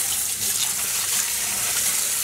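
Tap water runs steadily over tie-dyed cotton during rinsing, a loud, close, continuous gush of water with no pauses.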